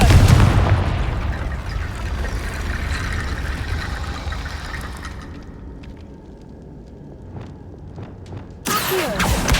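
A Confringo blasting spell in the Hogwarts Legacy video game erupts as a loud, booming explosion, its roar decaying over several seconds before a second sharp burst near the end.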